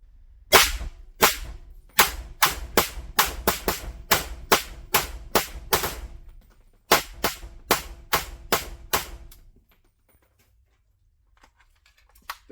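Hungarian Alpha AK rifle firing steadily through a magazine, sharp loud shots in quick rhythm, around two dozen rounds in two long runs with a brief pause between, then near silence.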